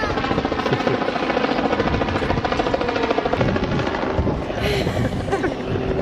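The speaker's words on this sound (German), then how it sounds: "Hubschrauber." A helicopter roars close by, its rapid chopping rotor and engine drone steady and loud throughout, with some voices underneath.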